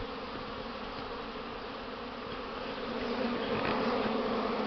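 Buckfast honeybees fly around their hive on a mild spring day, some carrying pollen loads, making a dense, continuous buzzing swarm that swells slightly louder toward the end.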